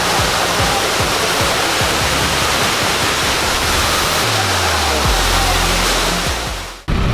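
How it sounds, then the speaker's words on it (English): A waterfall in northern Bali roars in a loud, constant wash of falling water close by, with a brief low rumble of other sound under it before it cuts off at the end. "This is definitely one of the coolest waterfalls we've been to today"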